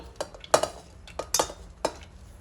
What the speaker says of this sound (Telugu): నానబెట్టుకున్న కందిపప్పు వేసేద్దాం. అలానే తరిగి పెట్టుకున్న వస్తువులన్నీ 1 ఆఫ్టర్ 1 వేసేద్దాం.